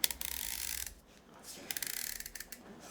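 The adjustment ring of a Zpresso ZP6 hand coffee grinder is turned down to zero, giving close, quiet runs of rapid ratcheting clicks in two bursts separated by a brief pause.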